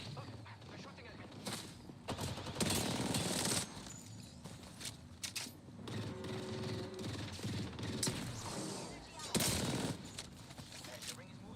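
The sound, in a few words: gunfire in a battle royale video game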